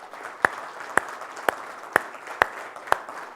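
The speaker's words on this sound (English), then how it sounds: "let's give ourselves and Sanjo and Sandeep a round of applause" Six single, evenly spaced sharp claps ring out over a quiet room at a recruitment talk, each one crisp and distinct against faint background noise.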